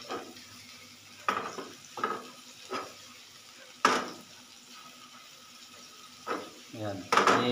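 Onions frying in a pan for cabbage sauté, with scattered bursts of stirring scrapes and hissing between quiet stretches, near and moderate in level, while a person talks.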